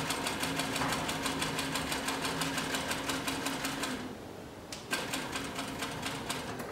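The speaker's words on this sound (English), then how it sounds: "I'm going to put two layers of approximately 3 to 4 ounce leather in the machine, and we're going to go ahead and sew with it a little bit." A post bed shoe sewing machine stitches two layers of 3 to 4 ounce leather, a steady fast mechanical rattle of the needle with a brief slowdown and pause before the rhythmic stitching resumes.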